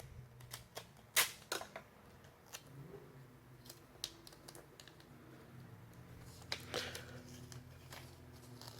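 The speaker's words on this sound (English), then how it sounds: "Peel the tape back off, bringing with it graphite and a little bit of the paper, of course." Adhesive tape peeled back off paper coated with pencil graphite, giving a quiet series of crisp ticking and crackling snaps, with one sharper pop early on, against a low background hum.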